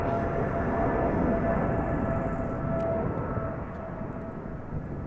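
An 11-year-old KLM Boeing 777-300ER takes off at Amsterdam Schiphol, a sustained engine roar with a faint whine above it that eases slightly toward the end, heard without speech.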